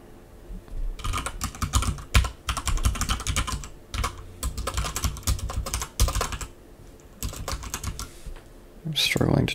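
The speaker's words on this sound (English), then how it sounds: "I'm struggling to type." Rapid bursts of typing on a computer keyboard, close and clear, with irregular clusters of keystrokes separated by short pauses.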